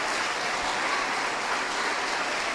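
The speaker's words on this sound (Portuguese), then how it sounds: "Gente, vamos aplaudir o nosso Deus." A church congregation applauds during a worship service, producing a steady, dense wash of clapping that holds evenly throughout without pause.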